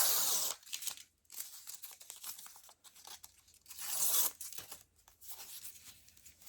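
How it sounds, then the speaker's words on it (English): Master board paper scraps being torn by hand in two long ripping bursts, with softer crinkling and short tears between them, close and fairly loud. "I'm just going to rip that a little"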